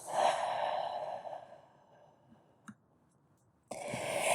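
Deep, slow breathing during a yoga box-breath sequence in a vinyasa class: a long, airy exhale up close, a quiet held pause, then the next breath starting. No one speaks.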